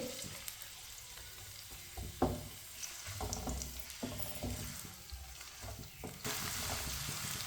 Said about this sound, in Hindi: प्याज को ना चम्मच चलाते हुए हल्का सा ब्राउन कर लेंगे